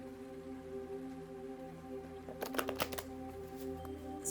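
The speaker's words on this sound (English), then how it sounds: "It's kind of hard to shuffle these since they're like just normal index cards." Plain index cards used as tarot cards are shuffled during a tarot reading: a short cluster of crisp papery riffles and flicks near the midpoint, close by, over a quiet room hum.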